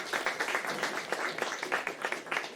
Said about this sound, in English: I think we need to give ourselves a round of applause for hosting the first session.